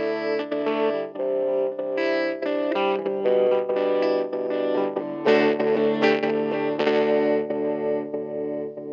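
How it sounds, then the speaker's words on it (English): A 1970s Kay/Univox Effector Les Paul electric guitar plays through its built-in echo effect, a run of distinct picked notes and chords, each trailing repeats, steady and fairly loud with no talk. "So we'll do the first one here, which is echo."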